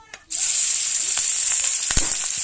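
Chopped onion and green chilies hit hot oil with a sudden loud sizzle that holds steady and close, a few faint clinks of a utensil scattered through the continuous frying hiss.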